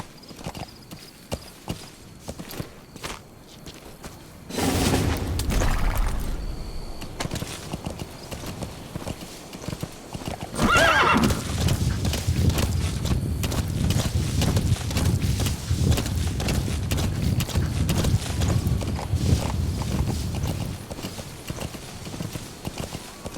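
Horse hooves clip-clopping at a gallop in Metal Gear Solid V, starting after a quiet stretch and running steadily and fairly close for most of the span, with a brief whinny-like burst near the start.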